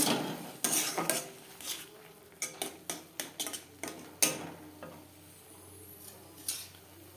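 Repeated clinks and scrapes of a utensil against a pan while cooking flat bean paste down until dry, an irregular run of sharp taps with quieter pauses, close by, no talking.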